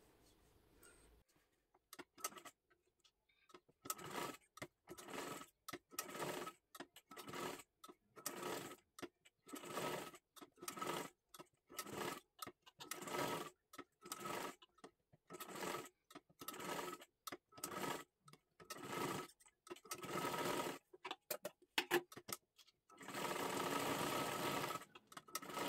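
A sewing machine sews a triangular seam on a kathpadar sari piece for a young girl, running in many short, close bursts separated by quick pauses, ending in a longer steady run.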